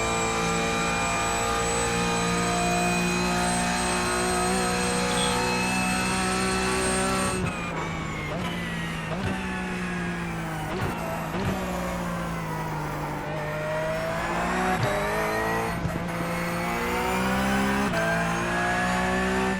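A Porsche Cup race car laps the VIR circuit, its engine a loud sustained whine that holds steady and then shifts through repeated gear changes and rises and falls in pitch.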